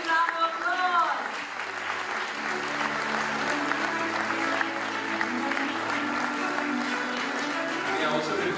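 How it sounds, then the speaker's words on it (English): Audience at a health awards ceremony applauds steadily as a guest is welcomed, a dense wash of clapping lasting throughout with some music or voices faintly underneath. "Please welcome him with a big round of applause"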